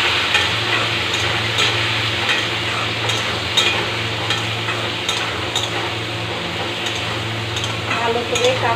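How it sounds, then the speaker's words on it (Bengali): Spiny gourd (kakrol) frying in a pan with turmeric and salt, a continuous close sizzle broken by soft scraping and clinks of stirring. "ভালো করে কাঁকরোল ভেজে নেব হলুদ লবণ দিয়ে ঢেকে।"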